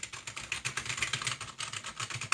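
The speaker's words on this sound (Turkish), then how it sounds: "tuş sesi" Rapid, fairly soft clicking of keys pressed on a Piranha membrane keyboard, a steady flurry of typing with muted, dampened taps.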